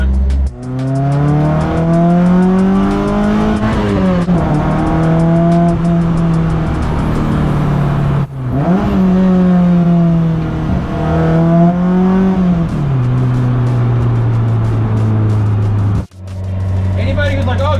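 Race car driven as a daily car, its loud engine revving up through the gears in repeated rising sweeps with brief dips at each shift, close and constant.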